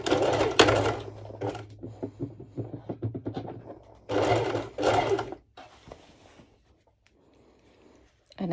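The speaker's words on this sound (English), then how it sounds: "I'm going to zigzag stitch" A home sewing machine zigzag stitches fabric for a triangle-top cover-up dress, running in a few short bursts with pauses between, fairly close and clear.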